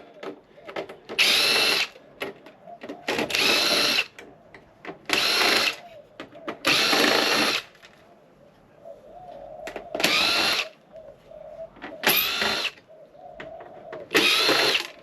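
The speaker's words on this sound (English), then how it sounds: "you got to actually unscrew them to get it off the board." A power drill unscrews steel riser pins from a server board in repeated bursts of a couple of seconds each, loud whirring spins separated by brief pauses with faint mechanical clicks, no talking.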